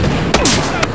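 A grenade blast in the multiplayer shooter Battlefield Hardline during a team deathmatch, a loud broadband burst amid dense ongoing gunfire and game noise, with a second sharp crack near the end.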